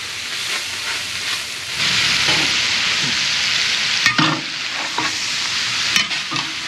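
Sausage fries and browns in a pot during outdoor jambalaya cooking, giving a loud, steady sizzle and hiss with occasional stirring scrapes and clanks.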